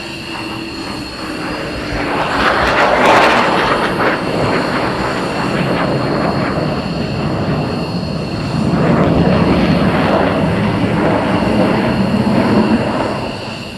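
Military jets flying past and entering the landing circuit at RAF Lakenheath during surge operations, a loud sustained engine roar that swells, eases slightly and builds again across the pass with no talk.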